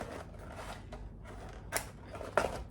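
A few short snips of scissors cut through tape, quiet and close, with brief crisp bursts separated by pauses.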